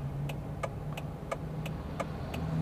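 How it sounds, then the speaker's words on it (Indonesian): A car's turn signal ticks inside the cabin, eight evenly spaced crisp clicks about a third of a second apart, clear over a low idling engine hum. "jangan lupa sen kanannya dinyalain ya"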